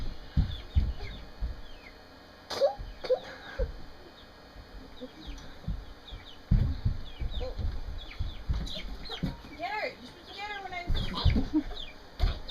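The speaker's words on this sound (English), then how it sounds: "Get that chicken!" A chicken clucks in scattered bursts near a boat being parked among construction poles, under shouting voices, splashing and background engine rumble.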